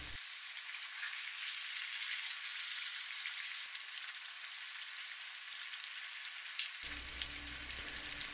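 Tomato sauce with mixed ingredients for shakshuka cooks in a pan, giving a steady, soft sizzling hiss throughout with a faint stirring scrape near the end.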